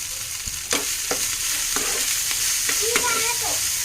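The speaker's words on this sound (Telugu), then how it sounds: "సో తాలింపు పెట్టేసి ఇంకా పొడి చేసుకున్న ఇడ్లీ పొడి అయితే వేసేసుకున్నా." Upma tempering fries in a pan with powdered idli, sizzling steadily up close while a spoon scrapes and stirs in several distinct strokes.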